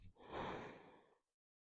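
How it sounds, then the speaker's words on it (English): One person yawns close to the microphone: a single long, breathy exhale that swells and fades over about a second before silence. "Second yawn."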